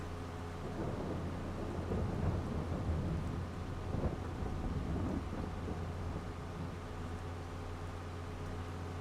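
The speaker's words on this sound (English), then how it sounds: "Can we mow in the rain?" Rain and thunder in the Farming Simulator 22 video game: a steady, dense wash of rainfall under a continuous low rumble of thunder, with no talk, holding level throughout.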